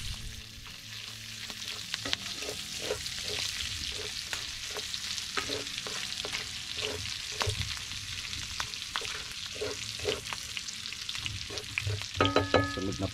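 Onion and garlic fry in a pan with a steady close sizzle and regular scraping stirs throughout, growing busier toward the end.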